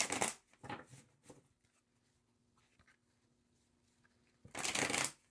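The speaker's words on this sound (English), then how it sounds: "So let's pull a clarifying card for some additional context from this tarot deck." Tarot card deck being shuffled, with quick riffling bursts at the start, a quiet stretch of faint handling, then one more loud, close riffle near the end.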